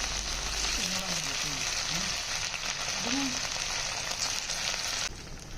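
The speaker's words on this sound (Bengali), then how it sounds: "এটাকে হচ্ছে তেলের মধ্যে ভেজে নেব মুচমুচে করে" Cornflour-coated chicken frying in hot oil for a crispy fire-chicken dish, a steady close sizzle with soft bubbling that carries on evenly for about five seconds before it drops off near the end, with no talk over it.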